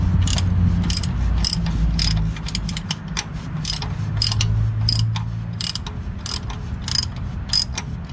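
Repeated ratchet clicks from a socket wrench working loose the oil drain plug on a 2005–2012 Toyota Avalon Limited, sounding in quick bursts close by over a steady low background hum, with no one speaking.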